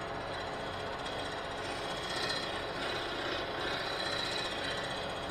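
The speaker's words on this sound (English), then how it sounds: "Faster is better, actually, when you're scraping." Steady, dense scraping chatter from a wood lathe turning a bowl between centers, with a tool held level against the spinning wood, continuous and fairly loud with no talk.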